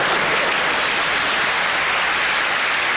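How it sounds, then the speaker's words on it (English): A comedy audience bursts into dense, loud applause after a joke, a continuous wash of clapping from a large crowd with no voices over it. "A round of applause on a joke about the worst thing that's ever happened?"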